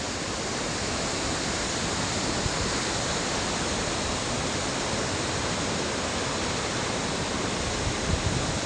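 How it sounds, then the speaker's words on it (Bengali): Nuranang (Jang) waterfall in Tawang, Arunachal Pradesh, roars as a dense, steady broadband rush of falling water, close and loud and unbroken from start to finish with no voices. "এই যে নুরানাং বা জং ওয়াটারফলস"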